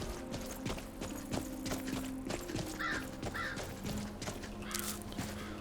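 Large ravens cawing in a fantasy video game town near a Hall of the Dead, several hoarse caws over footsteps and a low ambient music bed, fairly faint.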